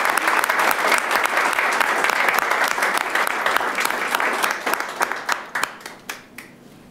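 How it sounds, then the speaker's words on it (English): Board of Supervisors meeting attendees applaud local businesses with sustained, fairly distant clapping from a crowd in a meeting hall, thinning out into a few scattered final claps. "Please give these businesses a round of applause."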